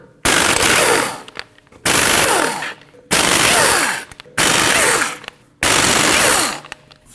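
Impact wrench removing lug nuts from a 2013-2019 Ford Escape 1.5L front wheel, five loud rattling bursts of rapid hammering, each about a second long, separated by brief gaps.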